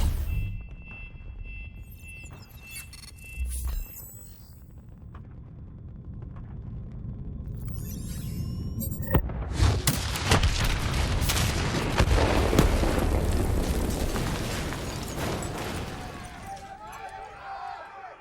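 Call of Duty Black Ops III gameplay: after a detonation, a loud sustained rumbling blast with crackling debris builds and rolls on for several seconds, preceded by quieter game sounds.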